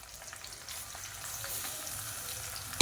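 Steady, crackling sizzle of onions frying in hot oil, fairly quiet and continuous, with a brief louder clatter right at the end.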